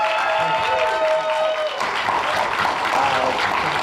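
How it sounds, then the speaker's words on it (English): An audience claps to welcome guests at a film Q&A, steady applause that fills the room throughout, with some sustained tones and a bit of voice underneath. "Please give them a big round of applause for making it all the way over here."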